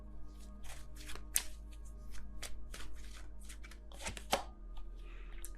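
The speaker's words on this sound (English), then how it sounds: "let me just get another card before I say that" Tarot cards are shuffled and drawn by hand, a run of quick, crisp riffling bursts and sharp snaps close up, with brief pauses between shuffles and no talking.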